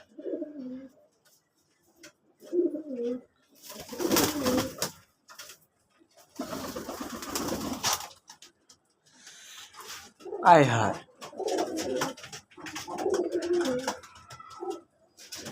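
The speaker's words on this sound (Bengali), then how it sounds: "এটা আমার নতুন কবুতর।" Crested pigeons coo in short repeated bursts at close range, alternating with a person talking and scattered handling noises between the calls.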